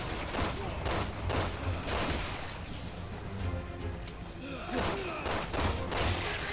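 Rapid gunfire from the video game Resident Evil 6 crackles in dense bursts of shots, with impacts and rumbling game effects, while a player talks faintly underneath.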